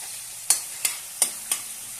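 Garlic paste, curry leaves and drumstick sauté in a pan under a soft, steady sizzle, punctuated by four crisp spatula taps spaced evenly across a couple of seconds.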